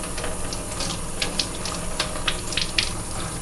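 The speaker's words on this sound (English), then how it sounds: "Making sure it's cold water, and we'll just rinse them off as best as you can." Cold tap water rinsing a newborn's items in a sink: a steady, bright spray of running water with small splashes and clinks scattered through it, close and fairly loud, with no voices.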